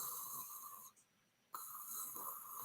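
A human voice imitates a light, small snore: a soft, steady nasal drone that breaks off for a moment and then resumes, quiet and close, with no words spoken.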